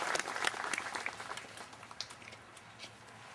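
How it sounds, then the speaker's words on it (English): Crowd applause at an outdoor Memorial Day ceremony, a dense burst of clapping that starts strong and gradually thins out over a few seconds. "please give them a round of applause"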